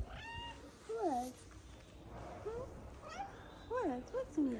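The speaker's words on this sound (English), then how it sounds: "Cute meow." A cat meows several times in short, rising-and-falling calls, some closer together toward the end, while a person talks softly to it in the background.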